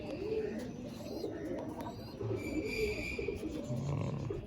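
An old breeding pigeon in a loft coos in soft, low, rolling calls that repeat several times, close by, with a steady background hum.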